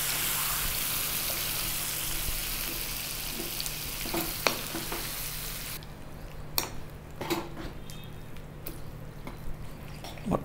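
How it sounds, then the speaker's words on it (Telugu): Curd rice being stirred after a fried tempering of spices is mixed in, giving soft wet squishing and scraping strokes with a faint sizzle fading early, close and fairly quiet, with no talk. "మొత్తం కలిసేలాగా కలుపుకోవాలి బాగా"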